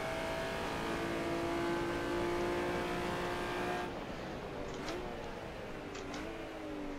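Honda NSX-R engine on the Suzuka circuit in the rFactor racing game, a loud steady high-revving whine that drops and shifts to lower revs partway, with brief ticks and no voices.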